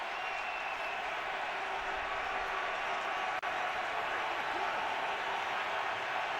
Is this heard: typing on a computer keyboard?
no